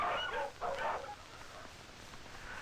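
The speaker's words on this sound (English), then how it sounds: "Our sled dogs are the only domestic animals we have." Sled dogs in an Eskimo village barking, a few short distant-sounding barks near the start and then quiet room tone.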